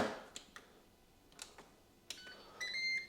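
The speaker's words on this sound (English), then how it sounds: "throw it into the air fryer" Air fryer control panel being set: a few soft taps and clicks spread over several seconds, then short electronic beeps near the end, all fairly faint in a quiet room.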